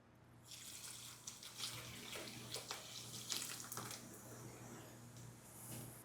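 Steady fizzing and crackling bubbles of oil in a saucepan hiss close by, with a low hum underneath and occasional sharper pops.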